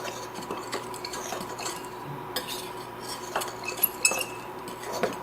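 Flour, cinnamon and salt for a rhubarb sweet bread are stirred together in a bowl with a utensil, making soft repeated scraping and light clinks of metal against the dish, close and fairly quiet, without talk.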